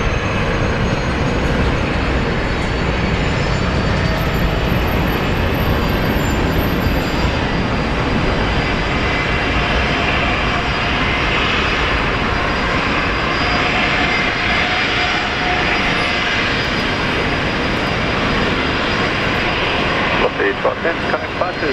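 Aircraft engines roar at Brisbane International Airport during a pushback, a broad, steady, loud drone that holds for the whole stretch with a slight swell in the middle, while a person talks over it.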